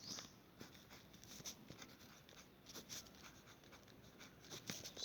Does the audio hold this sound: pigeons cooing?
no